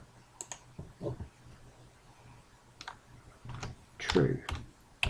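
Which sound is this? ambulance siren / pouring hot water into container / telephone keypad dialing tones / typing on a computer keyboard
typing on a computer keyboard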